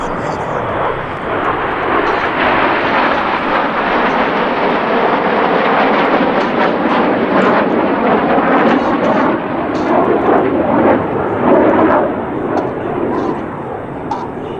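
RAF Red Arrows jets roar steadily overhead at an air show, a loud sustained broadband engine rush that swells and fades slightly over the whole stretch, with a commentator talking over it.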